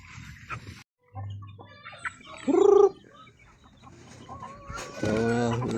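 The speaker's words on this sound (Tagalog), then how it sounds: "pagkanon ba nato yung manok na ito mga idol" Backyard chickens cluck and squawk at feeding time, one loud call rising over scattered softer clucks, with a voice speaking nearby at the end.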